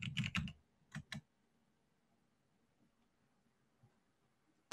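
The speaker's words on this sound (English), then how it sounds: "Just type in Jonathan" Bursts of keystrokes on a computer keyboard while entering a username into a running program, with a quick cluster of taps at the start, two more presses around a second in, then quiet and one last tap.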